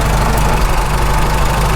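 A Farmall H tractor engine running after a rebuild, a loud continuous rumbling idle with a steady rhythmic knock and a whining hum from the constant mesh gears at the front of the transmission, no speech.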